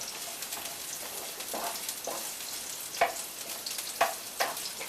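Onions fry in a pan with a steady, close sizzle and crackle, punctuated by a few sharper spatters and stirring clicks, all with no talking.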